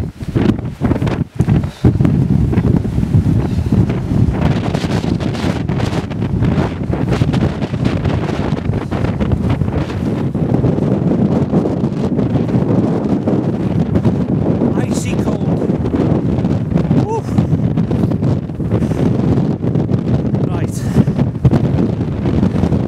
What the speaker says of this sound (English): So I'm not going to talk much on this, it's too windy